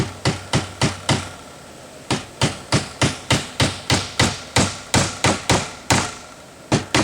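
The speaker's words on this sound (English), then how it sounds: "I'm only going to put one nail in at each end right now to make sure it fits" A hammer drives nails into the frame of an air conditioner screen cover with loud, sharp, evenly spaced strikes, about twenty blows in quick succession with one short pause, close and with no talking.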